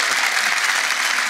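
Loud, steady applause from a live concert audience fills the whole stretch, dense clapping with no break and no voices on top.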